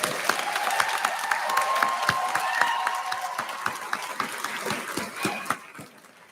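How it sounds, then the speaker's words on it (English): Audience applause at a licensed practical nursing pinning ceremony, a steady patter of many hands with distinct claps standing out, holding for several seconds before thinning and fading toward the end. "we can go ahead and give them a nice applause"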